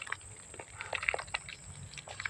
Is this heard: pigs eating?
yes